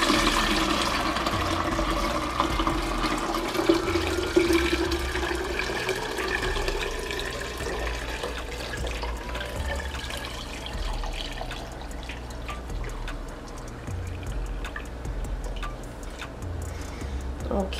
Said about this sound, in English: we can pour it into our pitcher